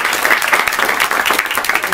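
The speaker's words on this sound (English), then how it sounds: "Give a big round of applause to Cornell and his entire team." Audience applause at a Washington State University event, a dense, even clapping from a crowd in a hall, close and loud throughout the short stretch.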